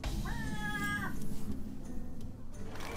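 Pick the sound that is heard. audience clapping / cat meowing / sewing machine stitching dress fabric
cat meowing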